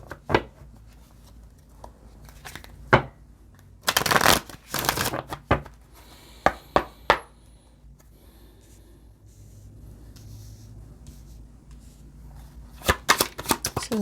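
Oracle cards being shuffled in bursts of crisp riffling and flapping, loud and close, with quieter handling and tapping between them and no talking.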